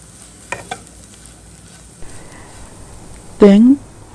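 Beef stir-frying in a pan with pepper, turmeric and garam masala, heard as a low steady sizzle with a couple of sharp utensil taps early on, then a brief tonal squeak near the end, close to the microphone.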